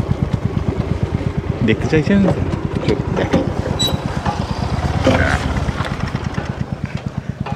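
Two motorcycles standing with engines idling near a bridge, a fast, even low thump running throughout, with a person talking briefly over it.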